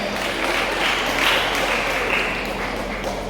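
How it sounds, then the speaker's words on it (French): Audience applause at a kindergarten graduation ceremony in Haiti, a continuous wash of clapping at steady loudness throughout, no clear voices over it. "Sur vos applaudissements, s'il vous plaît."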